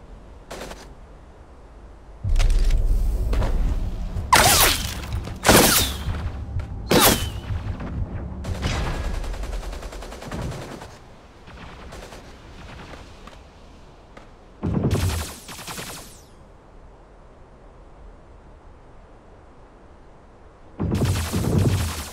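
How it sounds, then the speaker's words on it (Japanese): Sharp gunshots in the video game Super Mecha Champions crack out in irregular bursts, some single shots and some quick clusters, loud and close, with quieter mechanical clicks and rattles between them. "銃声が聞こえた。"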